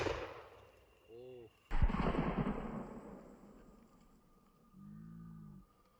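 A single gunshot fired at a bottle from about eight metres outdoors, a sharp loud crack followed by a decaying rumble, with brief voiced sounds before and after.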